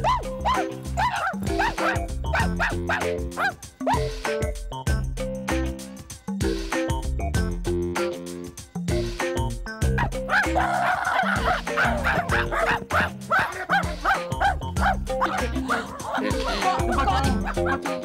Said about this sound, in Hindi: हमें भौंकने का मौका तो दो